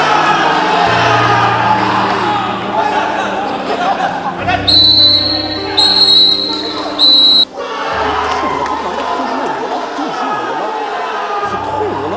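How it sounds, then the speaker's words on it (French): A shrill referee whistle blows in three sharp blasts at a futsal match, over a noisy crowd and someone talking nearby. "Ça y est, il va siffler."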